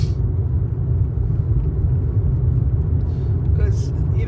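A car rumbles past nearby, a low steady road and engine drone lasting several seconds while someone talks over it.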